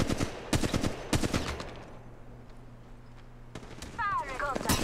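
Gunfire in the battle royale game Apex Legends Mobile, sharp bursts of shots at the start and again near the end, with a voice speaking in between.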